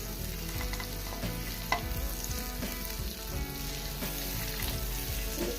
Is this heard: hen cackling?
no